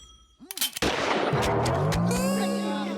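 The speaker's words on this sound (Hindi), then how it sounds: "हवा में फायर करो सर, फायर करो" A cartoon gunshot fired into the air cracks sharply once after a short whooshing sound, followed by a ringing, echoing tail that fades over the next two seconds.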